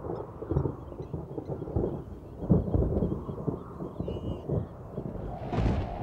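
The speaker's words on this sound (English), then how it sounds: "I can also see the first storms approaching." Thunder from approaching storms over the open Liuwa Plain grassland, a loud rolling rumble with repeated deep booms swelling and fading across several seconds.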